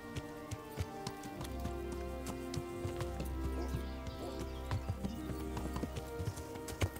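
Rhythmic clip-clop of horse hooves in the video game Kingdom Come: Deliverance, steady trotting footfalls on a hard path, moderately close, with faint ambient game sound beneath and no talk.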